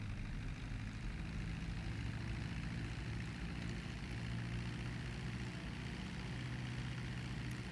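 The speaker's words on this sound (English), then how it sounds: "start the engine, and it takes to the runway." A modded A6M5 Zero fighter plane in GTA V runs with its propeller engine after starting up and taxiing to the runway, a continuous low droning rumble holding at an even level throughout with no talk.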